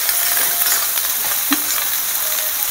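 Fish sizzles in a pan as it is stirred with turmeric, salt and cumin powder, giving a steady close frying hiss with a few soft stirring knocks and no talking.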